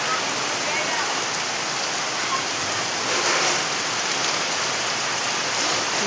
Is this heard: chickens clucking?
no